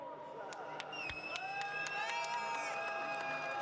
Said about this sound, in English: Plenty of applause